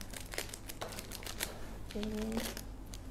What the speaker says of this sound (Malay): Ni bukan tak pakai gunting pun tak apa sebab kat sini ada dah ready boleh koyak terus je.